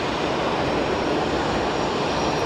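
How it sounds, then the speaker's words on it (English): An airliner lands at Geneva Airport, its thrust reversers producing a loud, steady, broadband roar that fills the whole stretch without pause and with no voices. "Generous use of the reverser, what a noise."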